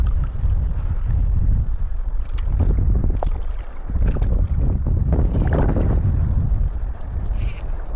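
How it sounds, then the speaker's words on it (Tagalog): Strong wind gusting across the microphone on a seashore during shore casting, a loud continuous low roar with buffeting bursts and faint higher noises from the rough sea around it. "Mahangin na yan, no?"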